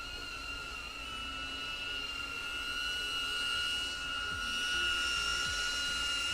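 A DJI Avata FPV drone hovers directly overhead, giving off a steady, high-pitched propeller whine with layered tones that holds constant throughout against faint outdoor background noise.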